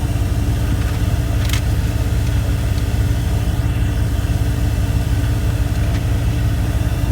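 A 1998 Dodge Ram 1500 pickup engine idles steadily with a low, even rumble, the air conditioning blower running alongside, loud and continuous with no talk.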